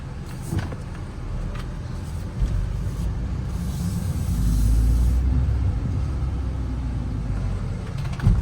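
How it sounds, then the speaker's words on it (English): A 2024 MINI Cooper S Convertible with a turbocharged 2-liter four-cylinder is driven, giving a low steady engine and road rumble that swells briefly in the middle, with a few soft clicks and thumps. "This has 189 horsepower with a 2-liter Ford turbocharged 4-cylinder because it's the S"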